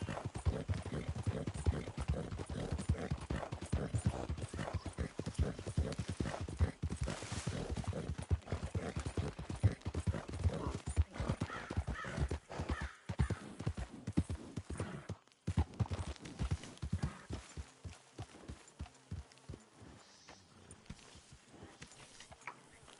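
Horse hooves clip-clop in a steady, quick rhythm through a horse race in a PS4 video game, loud and close, easing off near the end.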